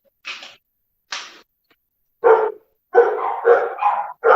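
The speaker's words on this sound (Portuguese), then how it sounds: "os cachorros estão latindo" Dogs barking nearby: two short sharp yips, then a run of louder, deeper barks coming in quick bursts, close and clear with silence between the early ones.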